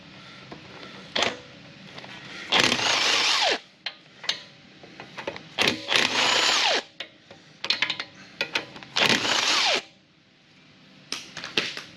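A power tool fitted with a socket removes a part in repeated loud bursts of whirring and rattling, separated by short pauses.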